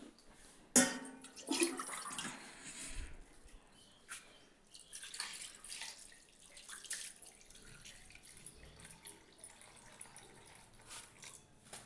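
Tap water runs and splashes as raw mutton is washed for a home-cooked curry, a sharp knock at the start followed by uneven gushes and dribbles of water at low, close level, with no talking.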